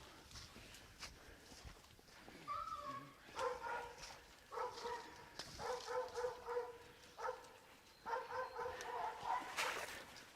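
A hunting dog tied to a tree during a rainy hog hunt barks and yips in repeated short bursts, somewhat distant, over faint outdoor noise.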